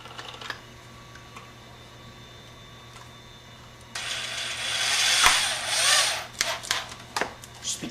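A screw being driven into a piece of scrap plywood, fastening a battery switch with 2.5 inch wood screws, gives a close ratcheting, grinding burst of about three seconds after a quiet start, then a few brief clicks.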